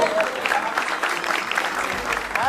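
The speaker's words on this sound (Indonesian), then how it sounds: "Tepuk tangan buat yang bawa hadiah." Studio audience applause at a Metro TV stand-up comedy show, a steady patter of clapping that fills the whole stretch at moderate volume, with faint crowd murmur underneath.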